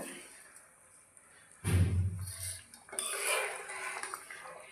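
A pot of tomato, olive and orange chutney is lifted off the stove, giving a heavy metallic clunk and scrape, followed by lighter rattling of cookware and utensils.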